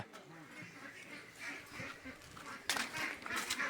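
Ducks on a duck farm quacking, a mix of faint, distant calls that grow louder and busier toward the end.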